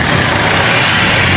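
A farm machine engine runs steadily and loudly up close, a dense continuous mechanical drone with no break across the short stretch.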